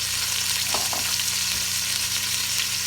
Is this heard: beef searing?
yes